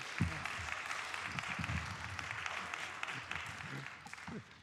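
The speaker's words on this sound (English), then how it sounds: "it's perfectly acceptable to applaud loudly, hysterically." Applause from an audience at a university staff awards ceremony, a soft, fairly distant wash of clapping that continues steadily, with some talking mixed in beneath it before it thins out toward the end.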